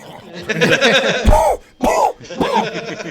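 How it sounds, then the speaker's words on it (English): Several harsh coughs and throat-clearing bursts in quick succession, loud and close, mixed with a voice. "All I hear is him coughing."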